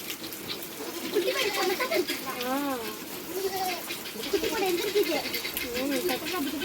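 Three newborn goat kids, one male and two female, give repeated high, wavering bleats close by while a person talks over them almost continuously.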